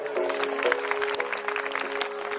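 Applause from devotees at a devotional singing programme in Khandoba's court, a steady dense patter of many hands lasting the whole moment, with a sustained musical tone running beneath.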